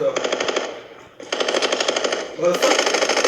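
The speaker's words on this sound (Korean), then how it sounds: "총소리, 총소리." Bursts of rapid automatic gunfire in Call of Duty: Mobile battle royale, loud and close, in three sustained volleys with a short pause between them.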